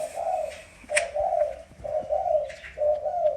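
A spotted dove chick coos in a repeated series of soft, close, low hooting notes with brief pauses between them, accompanied by a few faint chirps.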